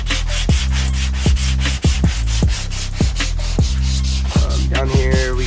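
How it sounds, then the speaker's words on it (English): Steady rhythmic sanding of body filler on a car hatch in an X motion, the abrasive rasping back and forth loudly and close, with regular strokes running continuously. "We're just gonna sand it down just a little bit more"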